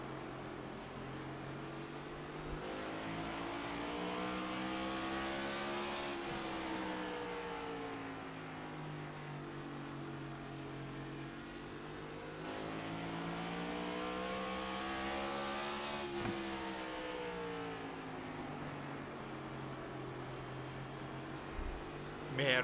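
Onboard engine of a race car in the iRacing video game at North Wilkesboro, a steady loud drone that rises and falls with gear changes and revs, with no talk over it.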